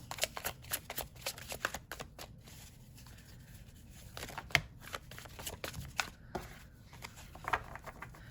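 Tarot cards being shuffled in a rapid series of crisp riffling flicks and soft slaps, close and fairly quiet, with no talking.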